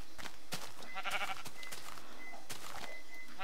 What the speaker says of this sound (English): There's so many sheep and I can't kill any of them!